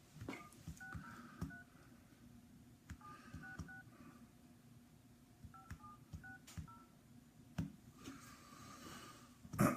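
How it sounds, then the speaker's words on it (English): Touchtone telephone keypad dialing, a series of short paired DTMF tones in quick bursts with gaps between them, fairly faint over a low background hum, with a few louder clicks. "In your touchtone phone, please enter your PIN number."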